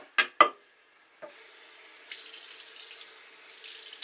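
Water from a tap runs steadily onto a sharpening stone during a honing job, a soft continuous trickle following a couple of short knocks, with no talk.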